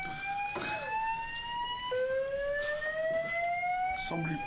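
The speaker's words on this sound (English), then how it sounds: "Somebody pulled the fire alarm." A fire alarm goes off inside a building, giving steady, piercing electronic tones that step down in pitch partway through. A few faint knocks and shuffles sit underneath.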